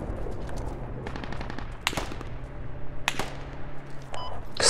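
Gunfire rings out during a match of the military shooter Squad, in a few sharp bursts spread over the clip against low ambient battlefield rumble, some shots close and loud, others more distant.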